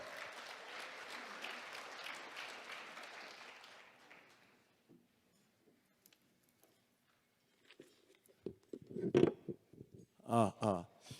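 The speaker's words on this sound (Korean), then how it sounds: "큰 박수로 환영해 주십시오." A crowd applauding to welcome a former vice minister of defense as speaker, steady clapping for about four seconds that fades into near silence, followed by a few bumps and a voice starting to speak nearby.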